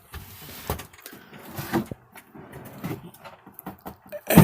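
Wooden clothes drawers slide open and shut in several short, quiet runs, each ending in a soft knock, with a louder thump at the end.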